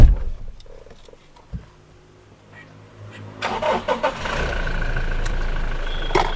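A Toyota Innova Crysta Z automatic, a single-owner car, cranks and catches at about three and a half seconds, then settles into a steady, loud idle close by, with a few quiet knocks and clicks before the start.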